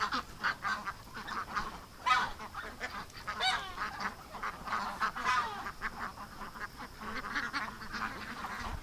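Ducks in a pen quack and honk in a loud, busy chorus of overlapping calls, with several sharp bursts standing out and no voices.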